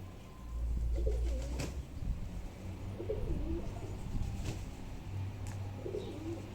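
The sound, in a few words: pigeons cooing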